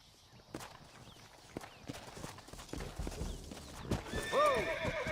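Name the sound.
horses whinnying and hooves clopping in Red Dead Redemption video game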